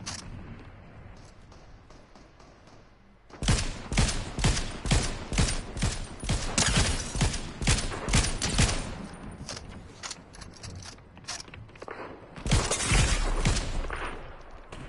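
Rapid bursts of gunfire ring out in a Fortnite match, loud, dense volleys that stop and start over about fifteen seconds with an ongoing background rumble between them.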